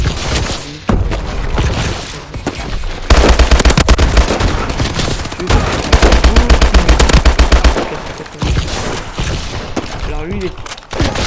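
Rapid automatic gunfire from the FBX3 weapon in a video game, loud and close, in long sustained bursts with short pauses between volleys.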